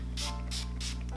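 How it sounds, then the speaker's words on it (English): Three quick hissing bursts of Urban Decay All Nighter makeup setting spray, close and evenly spaced, over a faint low hum. "I'm grabbing my Urban Decay All Nighter Setting Spray"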